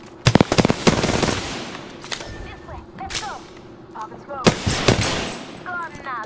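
Apex Legends gunfire snaps in sharp close bursts, a rapid volley of cracks at the start followed by scattered shots and whizzing effects, with a voice speaking in between.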